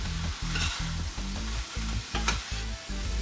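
Stuffed bell pepper filling frying and being stirred in a pan, with a steady broad sizzle and a rhythmic series of scraping spoon strokes roughly every third of a second, loud and close, with no talking.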